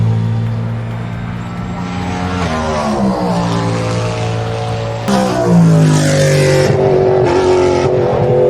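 A Cadillac V8 race car at Le Mans roars past with deep, rumbling engine revs. The pitch climbs and sweeps, and a second louder pass or acceleration comes in partway through. The sound is close and strong, with no voices.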